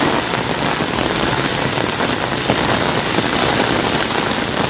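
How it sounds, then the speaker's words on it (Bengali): Heavy rain during a hailstorm in Arambagh, an unbroken loud wash of rain beating on surfaces, steady from start to finish with no voices. "সময়ের সঙ্গে সঙ্গে কিন্তু বৃষ্টির পরিমাণও বাড়ছে"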